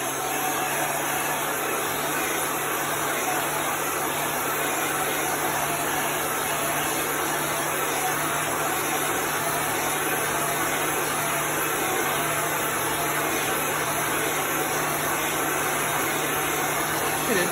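A heat tool blows air to dry chalk paste on a craft project, giving a steady, loud whirring hum with a constant whine that runs unbroken throughout.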